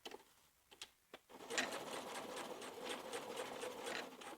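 A sewing machine top stitching a patch pocket on dungarees, heard close: a few short stitch bursts as the needle is positioned, then a steady, rapid mechanical whir of continuous stitching that fills the rest of the clip.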